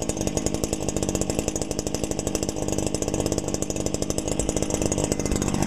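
A Stihl FS70-type string trimmer with a semi-automatic choke runs at a steady, loud rev, its two-stroke engine buzzing fast and even throughout with no pauses or voices.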